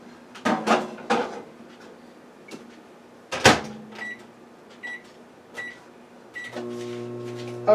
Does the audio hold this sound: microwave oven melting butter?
yes